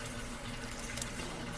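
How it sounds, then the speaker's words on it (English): Steady rushing water pouring from a tap into a pan, a continuous broadband hiss with no talking over it. "I'm running water in that pan."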